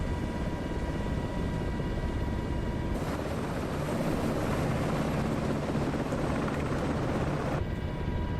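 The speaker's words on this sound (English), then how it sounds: "There's a heli over the top of me" A simulated MH-6 helicopter passes overhead in a flight simulator game, a steady dense rotor and engine roar that holds loud and even throughout, with a brief brighter swell in the middle.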